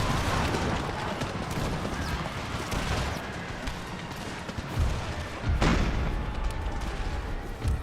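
Distant cannon fire and booming volleys on an Empire: Total War battlefield with Ottoman guns firing at Swiss Guard troops, a steady roar of massed battle noise broken by a few sharper booms.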